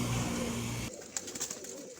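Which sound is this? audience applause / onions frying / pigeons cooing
pigeons cooing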